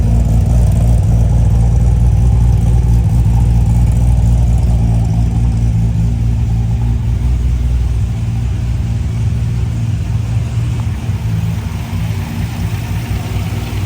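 Holden Torana LJ GTR XU1 in Linamint green running continuously up close, a deep steady rumble with mild revving swells, loud and alone without talk.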